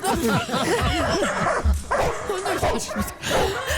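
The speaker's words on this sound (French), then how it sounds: "on lâche les pitbulls" Several pit bulls bark and yelp excitedly in close, overlapping bursts, with whimpering mixed in and loud, agitated energy throughout.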